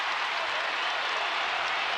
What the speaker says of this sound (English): this crowd is feeling it as we're tied at 64